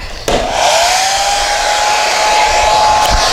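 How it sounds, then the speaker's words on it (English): A blow dryer switches on with a click and runs steadily with a loud, even whooshing whine, used to melt crayons for art, close to the microphone with no talking. "Plug in your blow dryer"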